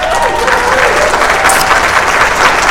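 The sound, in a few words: applause sound effect played by radio producer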